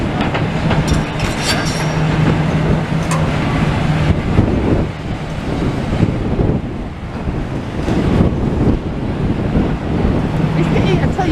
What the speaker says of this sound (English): I just wish it wasn't as windy.